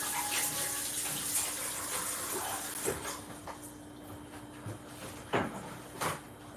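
A kitchen faucet pours water into a sink for handwashing during cookie baking, a steady close rush broken by a few soft knocks and clatters toward the end.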